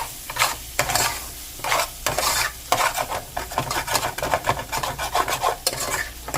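Vegan taco filling cooking in oil in a pan, with a bright sizzle under rapid, rhythmic scraping and stirring strokes that carry on close and loud throughout.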